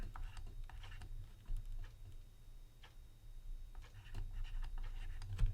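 Pen or pencil writing out a musical note on paper, heard as faint, close scratches and light taps in short irregular strokes over a low background hum, with no speech.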